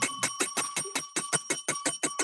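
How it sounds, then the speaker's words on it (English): A bell rung over and over in quick succession, about a dozen bright metallic dings in a steady rhythm, close and fairly loud with nothing else heard. "Someone's pressing a bell."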